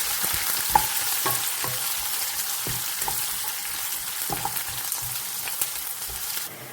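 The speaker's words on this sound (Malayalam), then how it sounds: "നമ്മുടെ പച്ചമുളകും ഇഞ്ചിയും കറിവേപ്പിലയും സബോളയെല്ലാം നന്നായിട്ട് മൂത്തിട്ടുണ്ട്" Green chili, ginger, curry leaves and onion sautéing in a pan for Kerala moru curry, a steady close sizzle of frying with scattered stirring clicks and scrapes throughout, no voices.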